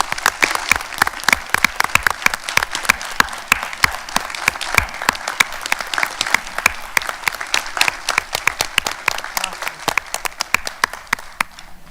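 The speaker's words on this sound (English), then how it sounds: "So I would like to give all of our business partners a huge round of applause" At a county school board meeting, the room gives business partners a long round of applause, loud and close, with many sharp individual claps packed densely together, steady for about twelve seconds before thinning slightly toward the end.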